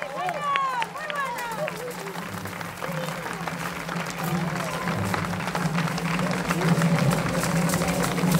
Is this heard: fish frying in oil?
no